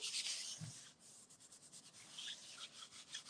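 Hand rubbing rice paper over a gel print, a soft continuous dry brushing friction close up, with faint rhythmic strokes and no voices.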